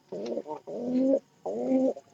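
Pigeons and doves cooing at close range in three drawn-out, throaty phrases separated by short pauses, with no talking over them.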